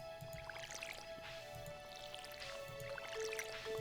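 Crops being watered in Stardew Valley make soft, repeated splashy drips and trickles over steady background music, a few bursts spaced about a second apart.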